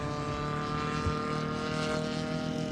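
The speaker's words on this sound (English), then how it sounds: "Ken's taxiing his aircraft in as Art makes the go round" A radio-controlled warbird model airplane engine drones steadily and fairly loudly at a flying field as the plane makes a go-around, holding a constant whining propeller tone throughout with no voices.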